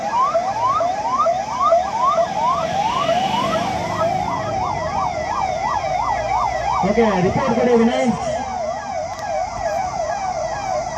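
An ambulance siren wails in a fast, steady up-and-down cycle at an emergency drill, loud and continuous, with a brief lower engine or horn tone around the middle and a short spoken exchange in the background.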